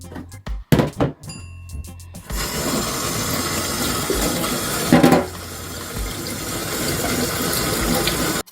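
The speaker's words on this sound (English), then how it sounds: "Now it's time to wash and peel our potato." Tap water runs steadily into a kitchen sink while a sweet potato is washed for a Jamaican sweet potato pudding, after a few sharp knocks and clunks at the start; the rush continues loud and close with no talk.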